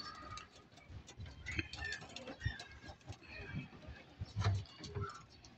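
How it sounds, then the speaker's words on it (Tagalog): Pigeons in a loft coo softly and irregularly at close range, with scattered ticks and shuffling noises around them. "Naghahanap na ng tubig yung yung ibang kalapati natin."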